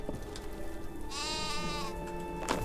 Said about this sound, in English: I should get that sheep in no time.